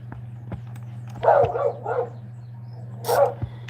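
A dog barks a few times in a yard, short sharp barks a little distant over a steady low hum, with no talk.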